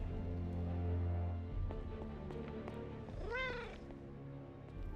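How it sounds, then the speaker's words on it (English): A cat meows once clearly and up close, a rising-and-falling cry standing out over a steady low hum and soft background sounds. "Wait, I hear a cat."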